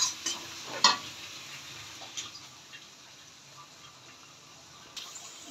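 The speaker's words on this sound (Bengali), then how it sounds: "মশলাটা একটু কষিয়ে নিব" A spice paste sautés quietly in a pan, giving a faint, low sizzle broken by a few sharp clinks and scrapes of a utensil against the pan, mostly near the start and once more later.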